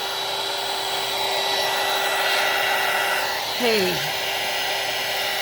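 A hair dryer blows steadily on an art journal page, a constant airy whir with a tonal hum throughout, and a short rising squeak near the end as someone speaks a single word.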